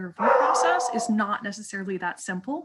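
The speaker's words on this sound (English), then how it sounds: "Sorry, that's my dog" A dog barks and yips under a person's speech, several short barks and a howl-like whine mixed with continuous talking.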